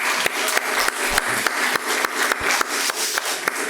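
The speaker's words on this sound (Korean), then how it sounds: "배의진 자매 큰 박수로 환영해 원합니다" A congregation at a Sunday worship service claps to welcome a visiting member, a steady close-up round of applause with sharp accented claps in a loose rhythm that holds throughout.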